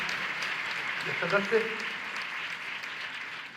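An audience applauds to welcome the governor at a national yoga seminar at Dev Sanskriti Vishwavidyalaya. The clapping is steady and sustained, and a voice speaks over it.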